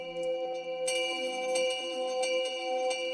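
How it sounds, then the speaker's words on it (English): A synth tone in Ableton run through echo set to heavy repetition, a bright pitched note repeating again and again in regular pulses over a steady sustained drone, loud and alone. "So if I replay this sound, right, you can hear it's really repeating a lot."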